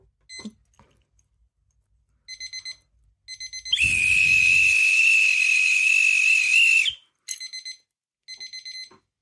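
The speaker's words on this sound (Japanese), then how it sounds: "ブザービーターで締めたいと思います" A loud, sustained electronic buzzer blares for about three seconds, framed by short bursts of high beeping tones before and after.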